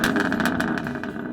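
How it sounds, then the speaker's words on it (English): Close, loud exhaust rumble from a BMW M4 converted into a Ute pickup, a throaty, pulsing engine note with rapid rhythmic bursts that stays strong and steady through the short stretch. "let's go ahead and take a listen to the exhaust on this M4 Ute."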